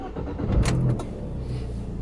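A modified Abarth 595 Turbo pulls away, its engine note swelling briefly and then settling into a steady low drone close by.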